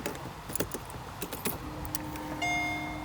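Keys jingle and clink in short bursts against a steady low hum, with a faint electronic tone setting in near the end; an early-2000s Mercedes-Benz SLR McLaren fish-shaped key with electronic ignition.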